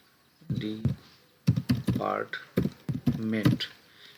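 Keys on a computer keyboard are typed into an Excel spreadsheet in several short bursts of clicks, close up, mixed in with someone talking.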